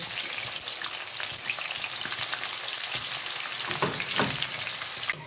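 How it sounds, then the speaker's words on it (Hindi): Onions fry in hot oil in a home kitchen, giving a steady, close sizzle and crackle with occasional sharper pops and no talk. "तेल गर्म हो गया तो अब डाल देंगे प्याज"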